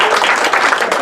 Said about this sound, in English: Now take your bow and get your applause.